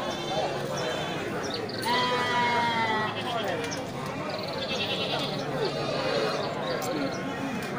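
Sheep and goats, including prized bucks, bleat repeatedly at a livestock market in Geurugok, with overlapping calls near and far over a steady crowd murmur and people talking.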